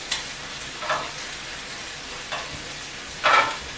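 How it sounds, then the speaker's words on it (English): Potatoes being flipped in a hot frying pan give four short bursts of scraping sizzle, spaced a second or so apart, over a low, steady frying hiss, with no voices. "We're gonna flip over the potatoes."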